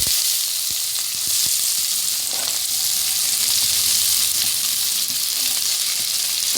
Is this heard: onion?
yes